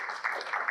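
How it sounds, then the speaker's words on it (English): Audience applause at a presentation and discussion event, a short burst of steady clapping from a room of people, moderately loud throughout. "Let's give him a round of applause for being here."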